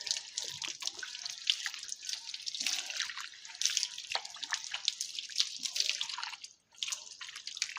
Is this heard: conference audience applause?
no